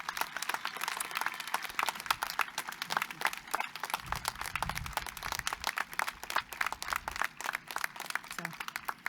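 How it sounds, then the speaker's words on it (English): An audience claps for new physician assistant graduates at a university white coat ceremony, sustained, dense applause with sharp individual claps, fairly distant and even throughout. "one more last round of applause for our new graduates today"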